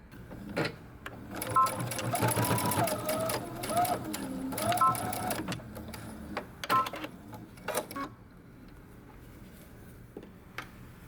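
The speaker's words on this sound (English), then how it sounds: "we're going to stitch along our stitching line" A sewing machine stitching along a dress seam gives soft whirring bursts and ticks in short, uneven runs, fairly quiet, mixed with a voice talking over it.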